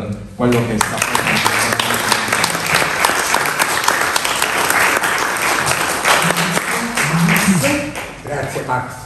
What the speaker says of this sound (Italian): tributare un grande applauso per quello che sta facendo